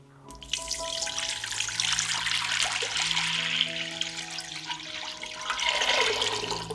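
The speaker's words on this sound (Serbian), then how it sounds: "U šerpu sipam 2 litre vode." Water pours steadily into a cooking pot, a splashing gush that rises in pitch as the pot fills, with steady tonal hum in the background.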